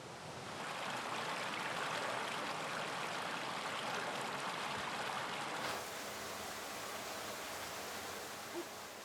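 A water stream rushes steadily downriver toward an old water mill in southern France, a continuous close hiss of flowing water with no breaks, heard alone.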